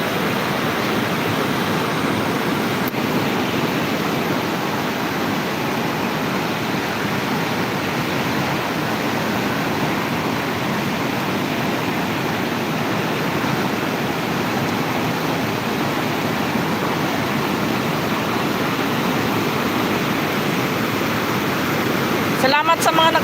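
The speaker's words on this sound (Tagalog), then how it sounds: "Oo, ang lakas ng tubig." Strong, rushing, overflowing floodwater pours with a loud, steady broadband roar that stays unbroken for the whole stretch, sounding close by.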